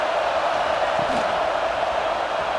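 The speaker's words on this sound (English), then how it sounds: "This crowd rising up, sensing that its defense needs some help." A stadium crowd in a college football video game simulation of UCLA vs NC State keeps up a steady, dense roar, broad and constant throughout with no clear peaks.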